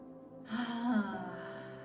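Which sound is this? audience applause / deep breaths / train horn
deep breaths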